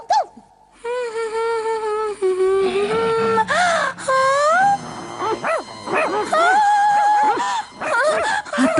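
A cartoon character imitates a dog with long, wavering howls and whimpering whines in short repeated bursts, loud and close, along with a few other cartoon voice sounds.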